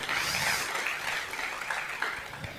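Studio audience applause at a live Ramadan religious broadcast, a brief dense burst of clapping heard at moderate distance with no voices over it.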